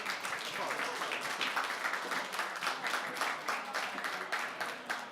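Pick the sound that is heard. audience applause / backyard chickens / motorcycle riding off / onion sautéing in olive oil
audience applause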